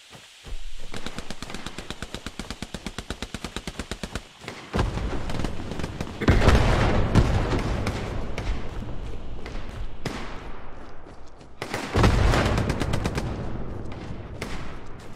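Machine gun fire in the World War II shooter Hell Let Loose during a D-Day Normandy battle: a steady rattling burst, then heavier booming shots and further sustained volleys, loud and close with no speech.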